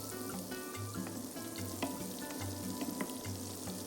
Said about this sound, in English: On medium heat, let's melt 40 grams of butter.